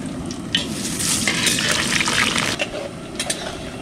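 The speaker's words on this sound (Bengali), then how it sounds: "তেল খুব সুন্দর গরম হয়ে গেছে, ফোড়নে দিয়ে দেবো গোটা জিরে, শুকনো লঙ্কা," Whole cumin, dried chillies and bay leaf sizzling in hot oil in a village cooking pot, a loud continuous hiss with bursts of crackle and a few scraping stirs.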